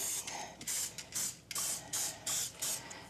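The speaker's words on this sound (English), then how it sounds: "Now we're going to spray our pan with Pam." A pan is sprayed with Pam cooking spray in a home kitchen: several short, quiet hissing bursts in uneven succession, close by, against a soft background.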